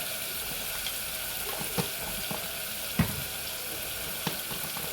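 Garlic and green chili frying in a pan with Kashmiri chili powder, a steady soft sizzle under a few faint clinks and taps, no talking.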